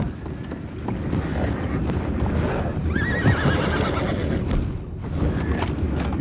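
Horses neigh loudly and hooves clop amid wind and water noise in the open-world Western video game Red Dead Redemption 2, with a whinny rising clearly in the middle over a steady, dense ambient backdrop.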